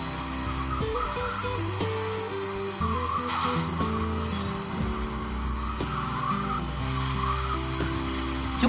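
Cars race and crash in a PSP racing video game, with steady engine drones, tyre squeals and occasional crunching impacts running continuously at moderate loudness.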